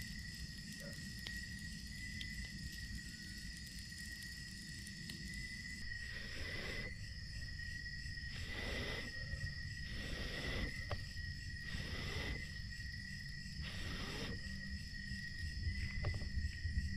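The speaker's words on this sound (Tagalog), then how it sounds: "Kasabay ng mga kuliglig." Crickets chirping at night beside a backyard bonfire, a steady high trill with regular pulsing bursts of louder chirps over a low outdoor rumble, no talking.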